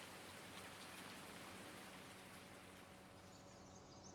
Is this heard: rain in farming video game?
yes